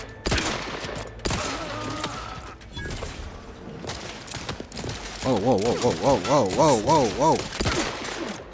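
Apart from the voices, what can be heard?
gunfire in the video game The Outer Worlds 2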